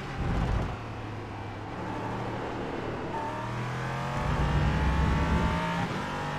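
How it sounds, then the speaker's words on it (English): A Ligier LMP3 prototype race car engine in the iRacing simulator at Road America droning steadily at high revs, with a low clacking stutter as it bounces off the rev limiter. "you can kind of hear that low clacking sound. It sounds like I'm hitting a limiter"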